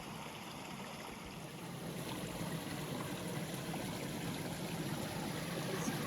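Fast-flowing water source beside the Timber Trail near Mystery Creek, a steady rushing wash heard from a short distance, faint and continuous with no talking.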